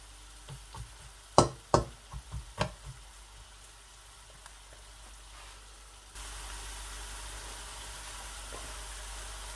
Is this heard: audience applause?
no